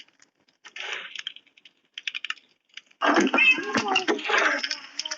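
A cat meows a few times in Minecraft over scattered keyboard clicks, then a louder, drawn-out meowing run fills the last couple of seconds.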